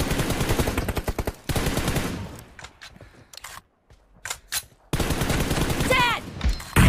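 Rapid bursts of automatic gunfire from the mobile battle royale game BGMI crack out loud and close, pausing into near silence before a second dense volley, with brief casing clinks and game effects between.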